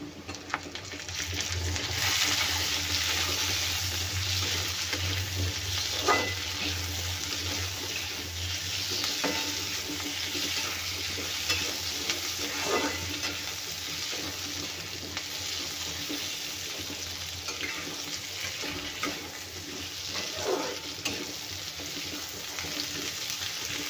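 Two tomatoes frying in a hot pan with coriander seeds give a steady, close sizzle that runs evenly throughout, with occasional faint clinks and stirring scrapes.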